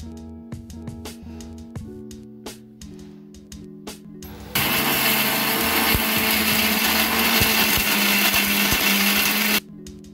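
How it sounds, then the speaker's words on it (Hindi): A kitchen mixer grinder purees tomato pieces, mint and coriander into a paste. A few light knocks and taps come first, then the motor roars loud and steady for about five seconds before cutting off abruptly. "मिक्सी में इसको पेस्ट कर लेना मामू।"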